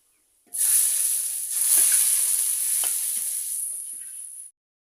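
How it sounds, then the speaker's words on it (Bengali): Onions and garlic frying in oil for dal produce a bright, loud hiss that starts suddenly, holds steady with a few soft stirring knocks, then stops abruptly. "এখন পেঁয়াজ রসুনগুলো লাল লাল করে ভেজে নেব"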